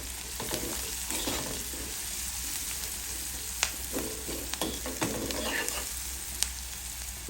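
Shredded cabbage fries in hot oil with turmeric and chili powder, a close, continuous sizzle broken by scattered clicks and scrapes of stirring, with no talking.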